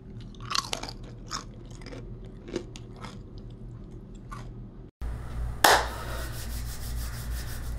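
Crunchy carnivore crisps being chewed close to the mic, with several sharp crunches and softer rubbing bites, then one louder crunch over a steady background hum.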